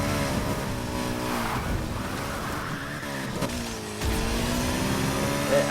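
A sports car's engine in Need for Speed drones continuously and loudly, its pitch rising and falling as it revs, with a brief tire-skid texture, heard alone without voices.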